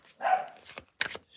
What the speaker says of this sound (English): I'm really sorry that my dogs are so into the neighbors.